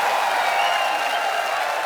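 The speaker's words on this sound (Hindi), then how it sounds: "रवीना टंडन जी के लिए जोरदार तालियां।" A studio audience at a television comedy show applauds loudly for a Bollywood actress, a dense, even wash of clapping for about two seconds with no talking.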